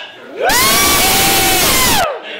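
A large crowd roars and cheers loudly for about a second and a half, with high shouts rising over the din, then cuts off abruptly.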